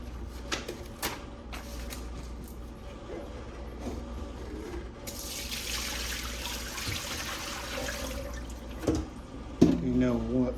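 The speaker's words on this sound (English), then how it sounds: "I'm gonna pour out that dirty Brita water, and I'm gonna fill it with the Nano" Water pours and trickles steadily for several seconds as it is emptied out of a Brita filter pitcher amid a clattering room, with a brief voice and some handling noise near the end.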